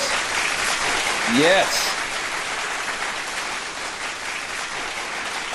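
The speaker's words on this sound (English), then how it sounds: "I'm going to give you a big round of applause." A recorded applause effect plays as a steady wash of crowd clapping, with a brief whistle-like sweep partway through and a voice speaking briefly over it.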